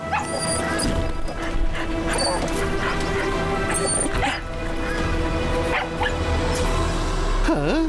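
A cartoon detective dog barks and yips over loud, busy music and sound effects, with crashes and whimpers mixed in.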